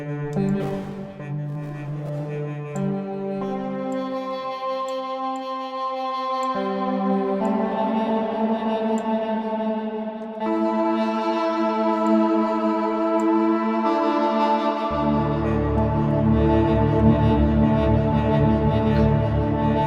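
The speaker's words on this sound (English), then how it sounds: "we'll add some reverb in. Give it loads of modulation and slow speed for the reverb." Sustained SynthMaster 2 wavetable synthesizer chords shift slowly through changes, drenched in wide, wavering, heavily modulated slow reverb that blurs each note into the next; no voices.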